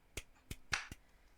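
Four sharp hand claps ring out, slightly uneven in timing, each crisp and close with nothing else around them.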